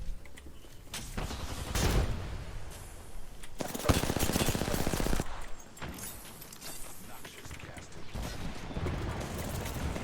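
Apex Legends gunfire rattles in rapid bursts, loud and close, with people talking over it.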